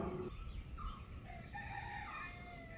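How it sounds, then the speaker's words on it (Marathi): A rooster crows faintly in the distance on a cool Konkan morning, one drawn-out call over a quiet outdoor background with soft hiss and birds. "त्याच्यामध्ये कोंबडा आरवतो आहे"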